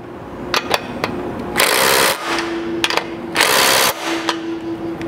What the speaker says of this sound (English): take your half inch socket and tighten your carriage style bolts here for the final